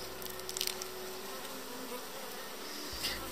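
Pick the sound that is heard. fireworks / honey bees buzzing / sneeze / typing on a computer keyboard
honey bees buzzing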